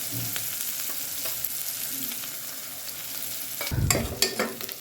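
Onion and curry leaves fry in hot oil with mustard seeds for a tempering, giving a steady close sizzle that swells into a louder, sputtering burst near the end.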